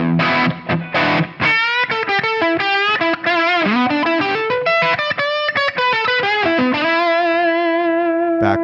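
An electric guitar run through a Quad Cortex with effects added plays a distorted, chorused melodic phrase of quick changing notes, ending on a sustained held note, loud and alone without voices.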